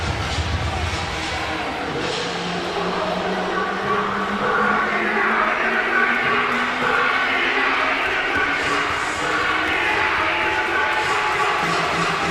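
A UConn basketball crowd in a packed arena during the second half against Tulane keeps up a steady, rolling roar of cheering, swelling slightly at moments, with a commentator talking over it.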